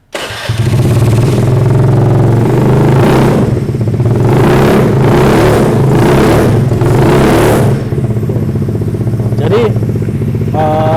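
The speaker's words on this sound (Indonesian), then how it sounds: "Yuk kita coba tes nyalain si motor Rukus Metropolis ini." A custom Honda Ruckus-style scooter built from a Honda Metropolis starts up and settles into a steady, close, fairly quiet idle, with a few swelling revs partway through before dropping back to a calm run.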